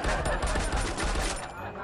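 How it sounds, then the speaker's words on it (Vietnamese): MP5 and VDS submachine guns in Free Fire fire in rapid, dense bursts of close, loud gunshots that run almost without pause. "Hôm nay thì đi solo squad mình sẽ thử bắn cái combo súng tiểu liên này nhá. MP5 với lại VDS."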